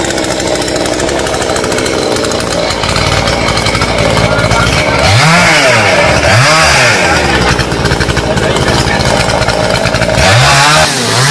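Chainsaw revving and cutting through the long branches of a rain tree outdoors, loud and close throughout, with the engine pitch repeatedly rising and dropping as it bites into the wood, while people talk over it.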